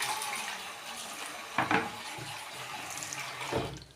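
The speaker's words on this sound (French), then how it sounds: "Je verrai rincer la petite bassine." Tap water runs steadily into a small basin being rinsed in a domestic setting, with a couple of louder splashing surges as the water is swirled, close and alone.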